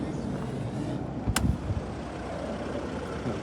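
A 2011 nine-seat passenger van with a 2.5 litre diesel engine pulls out with a steady engine rumble, heard close and fairly loud, with a brief sharp hiss or clank partway through.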